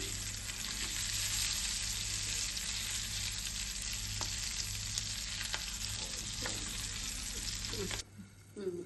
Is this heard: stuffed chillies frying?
yes